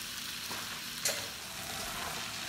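Curry cooking in a pot sizzles steadily as it is stirred, with one brief scrape of the spoon standing out above the constant frying hiss.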